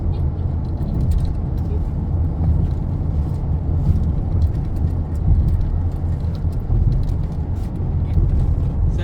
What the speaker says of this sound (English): this is a nice back road driving at the countryside